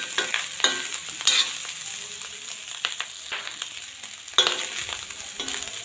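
Masala rice with roasted potatoes sizzles in a pan, with a soft frying hiss broken by several sharp stirring scrapes and clatters of the spoon against the metal.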